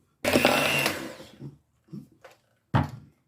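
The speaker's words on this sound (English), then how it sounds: "the flour is so thick, I'm going to have to use the mixer anyway" An electric mixer runs through thick banana bread batter in a loud whirring burst of about a second, followed by a few shorter, quieter pulses and one final strong burst.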